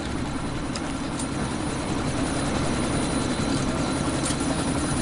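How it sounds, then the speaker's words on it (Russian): Battery-powered toy helicopter whirring steadily and loudly up close, a continuous buzzing rotor drone with no talk over it. "вертолет на батарейках"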